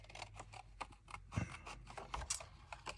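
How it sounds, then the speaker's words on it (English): Scissors snipping through paper as a stamped floral image is fussy-cut for a handmade card, with a quick run of close, crisp little clicks and cuts and no talking. "So we're going to cut this out."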